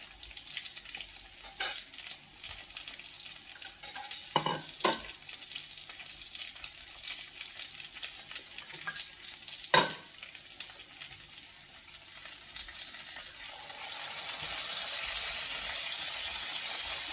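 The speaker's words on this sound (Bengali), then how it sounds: "এখন আমি বানগুলিকে একটু ভেজে নেব।" Burger buns frying in a hot pan give a soft steady sizzle, with occasional sharp clicks and scrapes of handling, and the frying hiss swells louder near the end.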